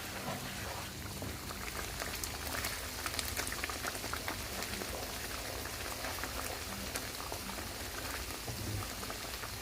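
Fish stew simmering in a pot, stirred before the fish goes in, gives a steady, continuous bubbling and wet churning with no voices.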